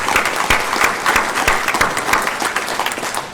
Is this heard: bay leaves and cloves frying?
no